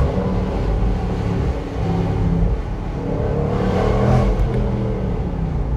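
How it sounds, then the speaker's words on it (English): A 2020 BMW X3 M or Jaguar F-PACE SVR performance SUV engine revs hard at full throttle and rises in pitch, a throaty mid-range roar heard from inside with windows down, echoing off rocks, fluctuating as the throttle changes. "I might wind down the windows a little bit just so you can hear the engine a bit more"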